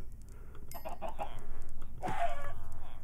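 Chickens clucking in a Minecraft farm, several short, close, fairly loud clucks in two bursts over a low background hum, with no talking.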